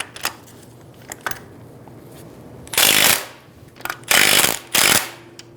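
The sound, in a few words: loosening strut top nut with 17mm socket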